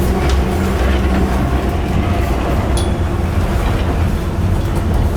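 A Docklands Light Railway train in London, bound for Lewisham near South Quay, rumbles along at speed, a constant loud low roar with faint rattling and a brief high squeal midway.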